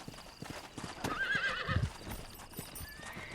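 Horse in the Red Dead Redemption game, clopping hooves throughout with a loud whinny in the middle, close and clear over a faint background.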